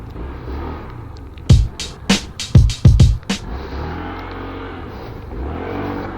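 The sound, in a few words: Euro Samurai 155i motorcycle engine revving, throttle response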